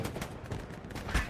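Machine gun fire rattles in a competitive match of the World War II video game Hell Let Loose, a brief, fairly distant burst of rapid shots.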